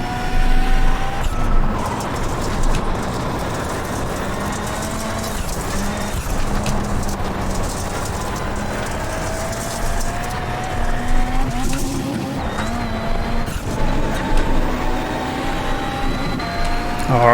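VW Beetle Lite rallycross car racing on dirt at Charlotte in iRacing, its engine droning steadily and loudly throughout with shifting revs, tire scrub and sliding noise as it powers around the hairpin.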